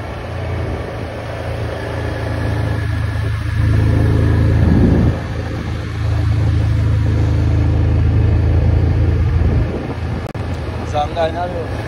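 A big bus engine drones steadily as the vehicle drives along during a tour of the Gambia, with a low rumble and wind buffeting throughout and a voice speaking over it.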